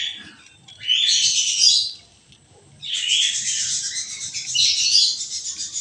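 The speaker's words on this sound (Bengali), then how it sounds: "আস্তে আস্তে পাখিগুলোকে বার করে নিই।" Pet birds such as Java sparrows, lovebirds or cockatiels chirp loudly and densely as they are taken out, one burst of twittering, a brief pause, then a longer continuous chorus of tweets.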